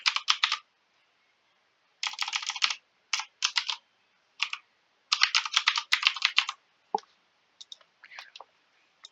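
Bursts of rapid typing on a computer keyboard, close and clear, in several separate runs with short pauses between them and no talking.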